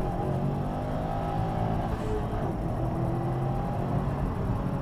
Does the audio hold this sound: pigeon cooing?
no